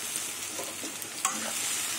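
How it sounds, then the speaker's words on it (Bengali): A spatula mixing mustard, poppy seed, green chilli and garlic paste into potatoes and drumsticks in a pan over a steady low sizzle, with a small scrape partway through. "এবার খুন্তি দিয়ে সব কিছু দিয়ে আলু দিয়ে মিশিয়ে নেব"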